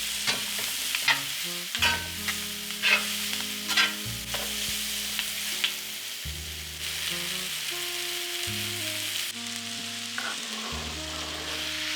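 Peppers sizzling in a hot pan for beef fajitas, a steady frying hiss with occasional stirring scrapes, overlaid by sustained background music throughout.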